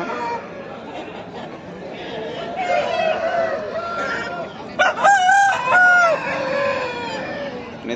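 Roosters crow amid the crowd noise of a busy Sunday poultry market in Annamayya district, with a loud, clear crow standing out near the middle over steady chatter and people talking throughout.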